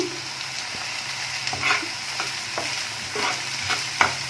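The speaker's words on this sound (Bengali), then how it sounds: "একদম ভালো করে নাড়াচাড়া করতে হবে সব সময়" Capsicum and onion fry for pepper garlic chicken, a close steady sizzle broken by regular scraping stirs of a spatula against the pan.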